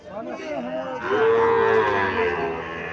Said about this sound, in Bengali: শাহিওয়াল জাতের বাছুর, এটা শাহিওয়াল জাতের বাছুর